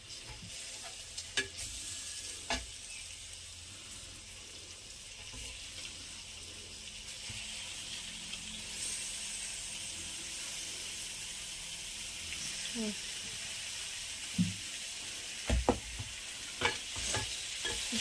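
Chicken pieces sautéing in a pan for chicken biryani, a soft steady sizzle under faint background hiss, with scattered utensil knocks and scrapes growing more frequent toward the end.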